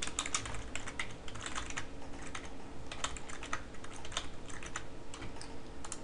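Someone types a name on a computer keyboard: a soft, steady stream of closely spaced keystrokes, fairly quiet and with no voices.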